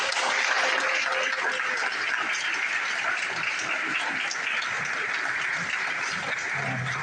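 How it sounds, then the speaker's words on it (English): Audience at a mayoral candidates' question-and-answer forum in Greenwood applauds the candidates, a steady moderate clapping sustained throughout with faint voices mixed in. "Let's give the candidates a round of applause."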